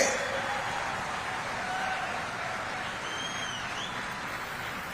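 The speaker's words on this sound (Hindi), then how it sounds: "जोर से एक बार तालियां हो जाए।" A crowd applauds at a public Save Soil awareness gathering in Bhopal, welcoming a guest. The clapping is a dense, even roar that holds steady throughout at moderate distance.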